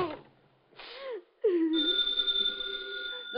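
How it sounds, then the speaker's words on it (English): An old-style telephone bell rings out in a radio drama, a sustained metallic ring that follows brief breathy vocal sounds. "The phone kept ringing."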